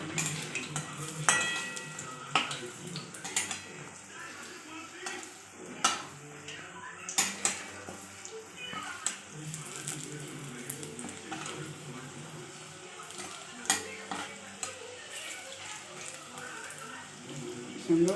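Drumstick flower fritters sizzle in a pan while a utensil stirs and clinks against it, producing scattered metallic taps and scrapes over a soft frying hiss, with some faint talk in the background.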